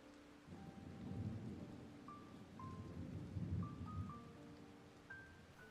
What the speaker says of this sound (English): I'm going to keep the rain in the background just because it makes it good for ambience